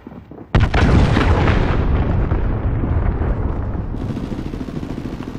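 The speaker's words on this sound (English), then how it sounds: "Allied cruise missile away." Allied cruise missile strike in Call of Duty Modern Warfare Ground War: a sudden massive close explosion bursts in, then a long, loud rumbling roar that slowly tails off, with a second crackling blast layer rising near the end.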